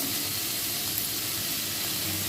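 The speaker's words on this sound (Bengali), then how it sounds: "এবারে সবজিগুলো আর চিকেনটা ফ্রাই হয়ে এসছে" Vegetables and chicken fry in a pan for egg chicken chow mein, giving a steady, close sizzle with a soft hiss throughout and no talk.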